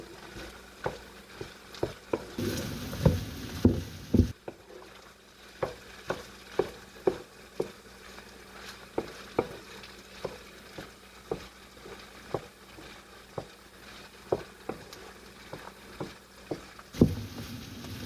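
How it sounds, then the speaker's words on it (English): Rice sizzles and crackles in a hot pan while a utensil scrapes and stirs in steady, repeated strokes, close by and without talk. "Frying rice today."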